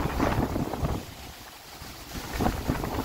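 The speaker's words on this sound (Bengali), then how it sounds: "অসাধারণ একটি বাতাস।" Strong storm wind gusting outdoors, roaring buffets that swell, dip in the middle and rise again, buffeting the microphone, with no voices.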